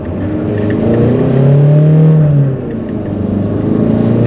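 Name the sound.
Citroen C4 Picasso diesel accelerating on kick-down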